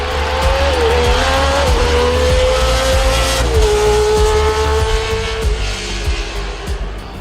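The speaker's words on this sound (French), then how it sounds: "On pourrait presque entendre le son de son moteur résonner sur les murs de béton autour de moi." A Formula 1 race car engine roars at high revs, loud and close, its pitch shifting in steps as gears change, with a rough whine and some tire noise running throughout.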